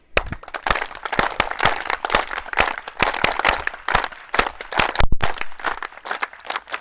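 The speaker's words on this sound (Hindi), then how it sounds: "वीर ताली।" Group of people clapping together in a rapid, dense burst of applause during a morning exercise session, steady and loud throughout with sharp individual claps standing out.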